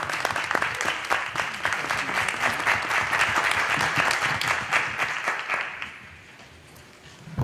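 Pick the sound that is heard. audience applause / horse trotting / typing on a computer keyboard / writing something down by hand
audience applause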